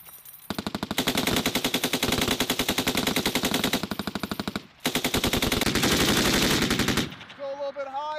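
An M240B or M249 machine gun fires long, loud, rapid automatic bursts on a training range, close and booming with one brief pause, then fades into a short ringing tail.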